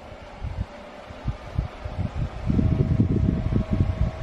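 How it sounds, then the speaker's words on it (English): A Dreo tower fan runs at maximum speed, giving a steady close airflow rush with low buffeting gusts that grow stronger and denser in the second half, with no talking. "with a Dreo fan set to maximum"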